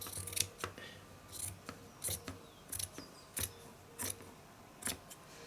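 Scissors snip through an odd-shaped fabric panel for slow stitching, a series of about eight crisp, close cuts spaced roughly every half second to second, each a sharp bright click over quiet room background.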